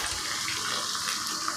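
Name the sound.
pouring water into mixer jar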